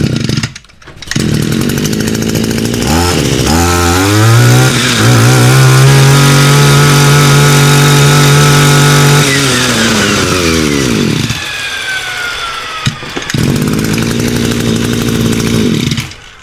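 An Echo 24cc Japanese brush cutter engine fires up after a pull start and runs loud and close, revving high with a buzzing two-stroke whine, settling, then revving again, with a brief cutout near the end.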